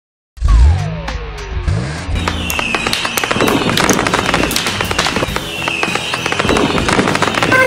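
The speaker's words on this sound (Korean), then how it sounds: "저기 봐봐! 불꽃놀이 너무 예쁘다!" A loud boom followed by a dense, continuous crackle of bursting fireworks, many pops and bangs overlapping close by without pause.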